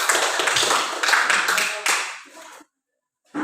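Classroom applause, a burst of many hands clapping together that runs for about two and a half seconds and then stops abruptly, followed by a short silence.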